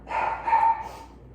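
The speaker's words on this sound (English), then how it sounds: "My in-laws' dogs are here, and they have no manners, so they are just barking their heads off right now." Dogs barking at a house, a quick pair of loud, sharp barks close by, with nobody talking over them.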